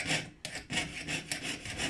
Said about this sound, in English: So notice I'm not fighting this, I'm allowing my saw blade to just glide.